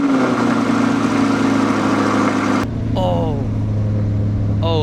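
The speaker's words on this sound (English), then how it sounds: "You can also start this car up with the keys" Engine of a 2020 Chevrolet Corvette C8 supercar running loudly with a steady idle that drops in pitch after a few seconds, as a person speaks briefly over the settling rumble.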